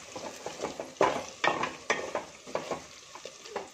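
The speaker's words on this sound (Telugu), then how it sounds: "మరొక 1 నిమిషం కంద ఉల్లిపాయలు మగ్గే వరకు మగ్గబెట్టుకుందాం" Elephant foot yam and onions cook in a pan, with a soft sizzle under a steady run of close spoon scrapes and stirring strokes, no talking.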